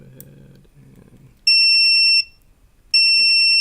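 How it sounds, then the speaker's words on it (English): A pipe-forming machine's alarm sounds in two loud, sustained electronic beeps, each lasting under a second and separated by a short pause, after some low mechanical clatter. "beeps here when we're separated."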